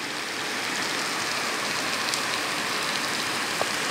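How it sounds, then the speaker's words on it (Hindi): Heavy rain pours steadily in Allahabad, a dense, continuous hiss of water on surfaces, close and unbroken, with occasional louder drips. "बहुत ही तेज़ बारिश हो रही है"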